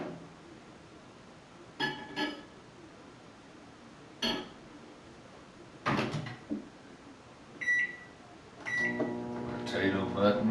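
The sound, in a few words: microwave oven cooking a potato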